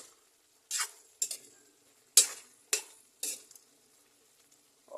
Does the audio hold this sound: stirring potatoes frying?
yes